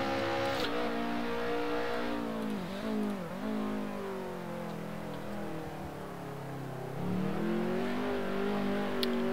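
A Nissan Primera BTCC touring car engine in Assetto Corsa drones steadily, its pitch rising and dipping through gear changes and throttle lifts, loud and close with no talk.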